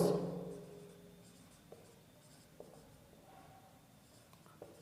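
Pen or marker strokes scratch faintly on a board or paper while a chemistry model-paper solution is written out, with a few soft taps between the strokes; there is no talk.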